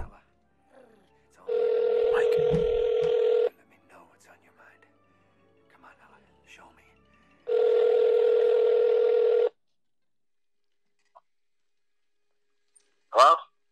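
A telephone dial tone in a film scene sounds in two steady, loud stretches of about two seconds each, separated by quiet rustling, with a short sharp sound at the end.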